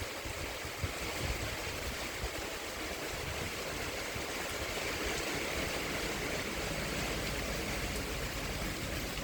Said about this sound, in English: It's just pouring.